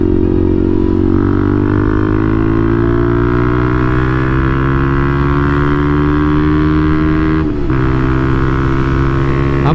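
A Benelli TNT 135 motorcycle riding along country roads, its small engine droning loud and steady close up, pitch slowly rising as it accelerates, with a brief dip near the end as it shifts or lifts off.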